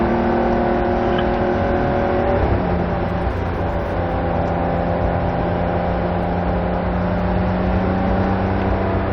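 A race car accelerates hard on the Barber Motorsports circuit, its engine note loud and steady with a clear gear change partway through, the sustained drone running near and continuous throughout.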